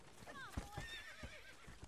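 A horse whinnies in a few rising and falling calls over the clip-clop of hooves in the video game Red Dead Redemption, with soft background sounds.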